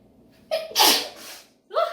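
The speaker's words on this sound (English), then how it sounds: "That seasoning got me sneezing" A single sharp sneeze set off by gumbo seasoning, preceded by a quick inhaling breath and followed by another short breathy burst.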